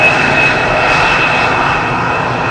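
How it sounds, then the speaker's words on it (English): A KLM City Hopper Embraer jet lands on runway 18R at Amsterdam Schiphol in rainy, windy weather without using thrust reversers, a steady loud engine roar with a whining tone held throughout, heard up close and alone. "another no thrust reversers landing"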